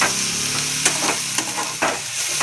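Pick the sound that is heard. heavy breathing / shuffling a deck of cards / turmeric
turmeric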